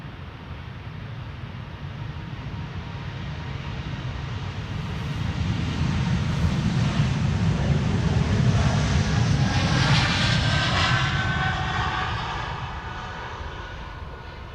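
An Aer Lingus Airbus A220 in retro livery revs its jet engines for takeoff at Amsterdam Schiphol, a steady broadband roar with a low rumble that swells in the middle and eases slightly toward the end, heard without voices.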